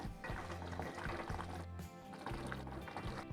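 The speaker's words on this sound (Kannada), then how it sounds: "ಅಕ್ಕಿ ನೀರೆಲ್ಲ ಹಾಕಿ" Water pours into a pressure cooker holding rice and mint for mutton biryani, giving a continuous gurgling, sloshing fill at close range that fluctuates as the stream shifts.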